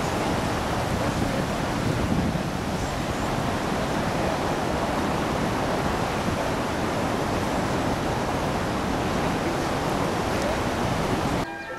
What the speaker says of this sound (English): The mighty Zambezi River at flood stage.